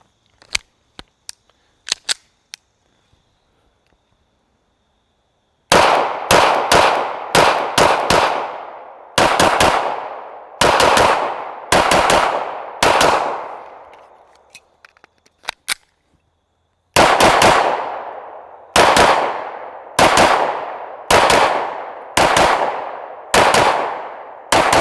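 A Staccato C2 DUO 9mm pistol, a 2011-style handgun, fires polymer-tipped rounds in sharp, loud shots. A few light clicks come first, then a fast string of about five shots, a pause, another string of about five, then a final string of about six. Each report rings out briefly.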